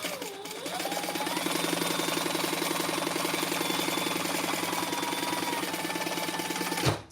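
A sewing machine runs steadily for about seven seconds, stitching a travel case lengthwise with a fast, even mechanical whir and rhythmic needle clatter, close and unbroken, stopping abruptly right at the end.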